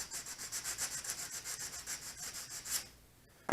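A sanding block rubs back and forth over iron-on edge banding, making about twenty rhythmic, evenly paced scratchy strokes up close before it stops and a brief knock follows.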